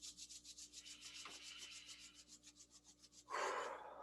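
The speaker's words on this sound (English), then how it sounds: "let's rub your hands." Palms rub briskly together in steady back-and-forth strokes during a gentle neck exercise session. The soft, close rubbing ends in a louder, fuller rush of friction.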